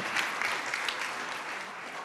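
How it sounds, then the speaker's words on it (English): Audience in the ECOSOC Chamber giving a warm round of applause during a senior-level meeting, a dense, even clapping from a large room crowd throughout. "A warm round of applause as he comes up, please."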